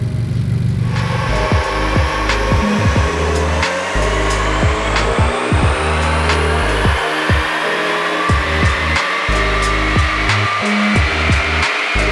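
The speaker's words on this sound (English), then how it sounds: "let's get started on some dyno tuning and let's see what this thing can crank out" A turbocharged 10th gen Honda Civic fitted with an off-the-shelf MHI turbo roars on a dyno, engine climbing steadily in pitch through a long loud pull with repeated sharp transient pops and clicks layered over the drone.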